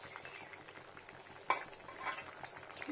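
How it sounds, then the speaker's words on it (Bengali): Ridge gourd curry with black pepper paste being stirred in a pot, faint low bubbling and gentle scraping with one sharper clink of the spoon near the middle, quiet and close, no talking. "ভালো করে মিশিয়ে দিই।"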